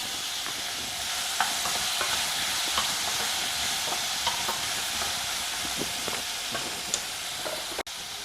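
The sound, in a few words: cooked chickpeas and hing being added and stirred in a pan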